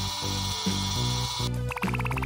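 A small motorized toy hums steadily with a whirring drone, then shifts into a faster, pulsing rattle as its drum spins.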